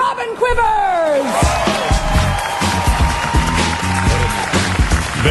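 Audience applause and whoops at a celebrity comedy roast, a large crowd clapping and cheering loudly and steadily, with a voice speaking over it and musical tones at the start.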